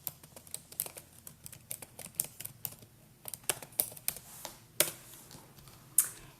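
Typing on a computer keyboard, irregular close key clicks and taps in quick bursts with a few harder keystrokes.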